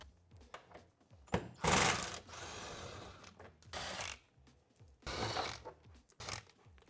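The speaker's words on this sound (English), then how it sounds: "we're going to use a T40 Torx bit to remove 4 screws out of this rear panel" A T40 Torx bit on a power driver spins screws out of a Polaris RZR XP 1000 rear panel in three short whirring bursts, with quiet mechanical handling between them.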